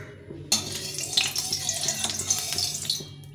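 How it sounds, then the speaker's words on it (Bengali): Tilapia drops into hot white cooking oil with a sudden burst of close sizzling and crackling spatter that keeps hissing for a few seconds. "আমি সাদা তেল দিয়ে মাছটা ভেজে নিচ্ছি।"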